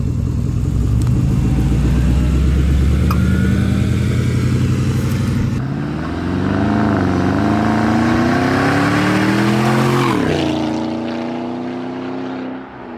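A straight-piped Porsche Cayenne Turbo roars past loudly, its exhaust rising in pitch on approach and then falling away as the engine note sweeps and fades, with no talk over it.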